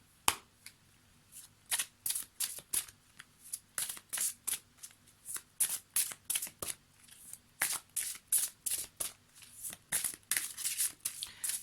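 Oracle cards being shuffled by hand, a long run of quick crisp riffling bursts in steady rhythm, close and clear with no talking.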